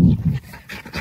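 Dogs pant close by in quick, breathy bursts, rhythmic and fairly loud over a brief moment.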